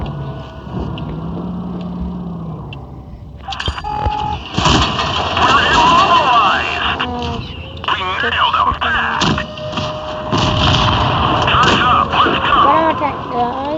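A tank gun fires from an SU-85 tank destroyer in a video game, a loud booming blast followed by engine rumble, mechanical whirring and battle noise, with a voice talking over it.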